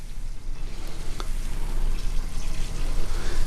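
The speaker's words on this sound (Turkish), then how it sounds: "Evet soğanımız kavruluyorken etimizi de alalım." Onions frying in a pan for Turkish dried okra soup give a steady, close sizzle with soft crackle throughout, with no voices over it.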